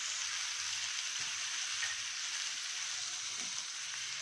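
Ingredients with poppy seeds frying in a pan for a green peas pulao side dish, a soft, steady sizzle with faint crackles, close and without talk.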